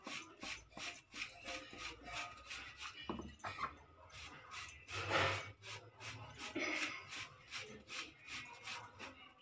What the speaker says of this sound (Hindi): ये हमारे 2 आलू हैं, इन्हें हम थोड़ा सा कद्दूकस करके डाल देंगे।